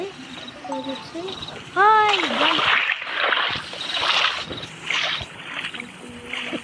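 A character jumps into a swimming pool in a party video game, landing with a single loud splash followed by bubbling, watery underwater ambience, with game tones and chimes around it.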